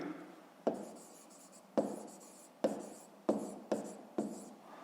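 Handwriting with a pen on paper while working a fifth-grade maths problem, six crisp strokes at uneven intervals, close and quiet, with no voices.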